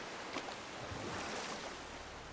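A huge waterfall in the video game God of War (2018), heard as a soft, steady broadband rush of falling water, faint and distant, with no voices.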